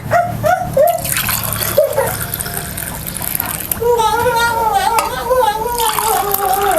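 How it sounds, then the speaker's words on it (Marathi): Homemade sol kadhi, a Konkani kokum and coconut drink tinted with beetroot, is poured into a glass, giving a loud steady liquid gurgle that rises in pitch as the glass fills, with someone talking over the start. "आता आपण इकडं ग्लास घेतलेले आहे तर आपण हे ग्लासमध्ये घेऊया"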